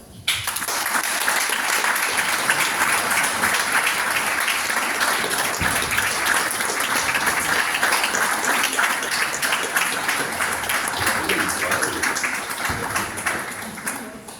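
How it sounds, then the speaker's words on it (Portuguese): Sustained applause from an audience at a book presentation before a bishop, a dense, even wash of many hands clapping that stays loud for the whole stretch and fades slightly at the end. "Uma salva de palmas."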